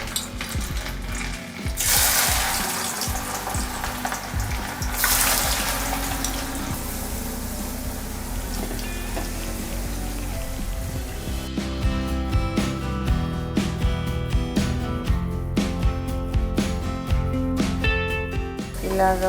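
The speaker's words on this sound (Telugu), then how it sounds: "ఇలాగ 5 minutes వరకు ఇలా ఫ్రై చేసుకొని పక్కన తీసేసుకోవాలి" Potato fries deep-frying in hot oil, a steady loud crackling sizzle that rushes up as the potatoes go in and then settles into dense, continuous bubbling, close up, with no one talking.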